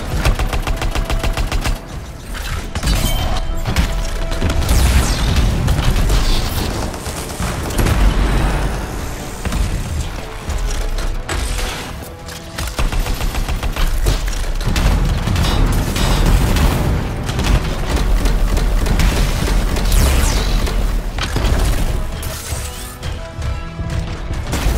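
Loud, dense combat in the video game Anthem, with a Colossus javelin setting off contained explosion blasts amid near-constant heavy gunfire, crashes and booms that barely let up.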